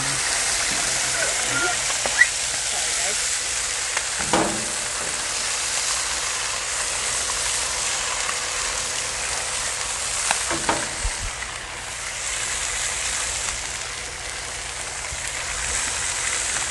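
German potato salad cooks on a Blackstone griddle with ghee, giving a steady, close sizzling hiss that runs throughout. A few louder scraping or stirring bursts break through, with no voices.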